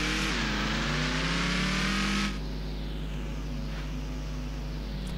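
A car in Ranch Simulator races downhill at speed. Its engine holds a steady loud drone with a rising, revving whine that cuts off sharply partway through, leaving a lower, continuous rumbling roar.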